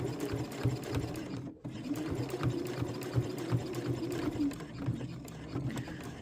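A sewing machine runs steadily nearby, stitching a quilted triangle Christmas tree with a fast, even mechanical patter and one brief pause partway through.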